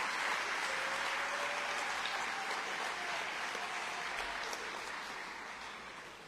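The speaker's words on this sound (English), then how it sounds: "How about a nice round of applause for all those who help support the Big 33." A crowd at a Big 33 celebration applauds steadily, a dense clatter of many hands clapping at once that holds strong and then gradually fades.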